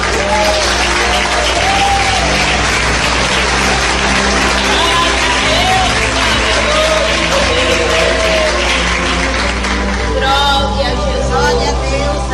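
A church congregation at a Pentecostal service in Curitiba claps in praise, a dense, loud and sustained wash of applause with crowd murmur and voices beneath it, continuing for about twelve seconds.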